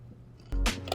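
A single crunchy bite into a fried pork chop coated with sriracha mayo and teriyaki sauce, heard close up: quiet at first, then a sharp crackling crunch near the end.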